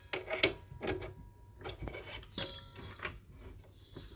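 A whisk being fitted onto a Kenwood Titanium Chef XL stand mixer gives a few quiet, sharp metallic clinks and short scraping rubs, close by with no talking.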